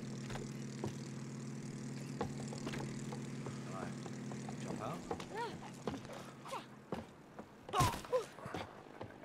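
Steady propeller airplane engine drone in the video game It Takes Two, a sustained low hum for the first five seconds before fading under voices and other game sounds.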